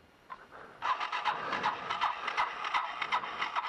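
Yamaha YTM 225DR three-wheeler engine cranking over: a rapid, even series of mechanical pulses and clatter that starts near one second and keeps going steadily without a clear catch, close to the microphone.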